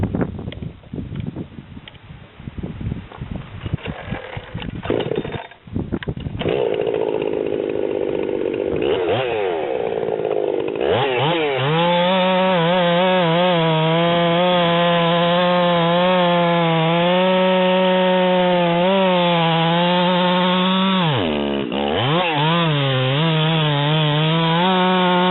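A Husqvarna 390xp chainsaw noodles through wood, first sputtering and bogging roughly, then settling into a loud, steady high-revving whine under load for most of the cut, dipping briefly once before recovering.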